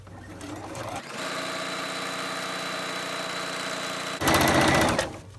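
Sewing machine stitching fabric strings onto a paper foundation for scrappy string quilt blocks, a steady close mechanical whir with a fast stitching rhythm that runs for several seconds, then speeds up into a brief louder burst before stopping.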